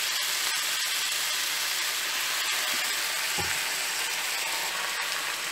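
Beef for lomo saltado frying in a pan with red wine vinegar and soy sauce, giving a dense, even sizzling hiss throughout with a few faint clicks and one brief low knock, close and without speech.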